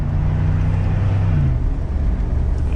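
A 2022 Mercedes-Benz G550 engine rumbles low and steady on a downshift, a continuous deep drone heard from inside the cabin with no talk over it.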